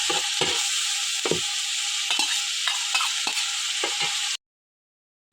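Onion paste sizzles hard in a hot pan for a Kerala-style cooking session, with several distinct stirring scrapes over a steady hiss before it cuts off abruptly near the end. No one talks.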